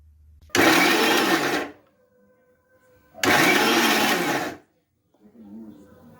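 A mixer grinder grinding peas and potatoes roars in two loud bursts of about a second each, separated by a pause, with faint rattling afterward.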